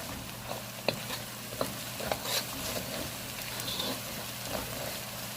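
Spice masala for chicken curry, with turmeric, curry powder and red chilli, stirred and fried in a pan, giving a steady close sizzle marked by several sharp scraping clicks of the spoon against the pan.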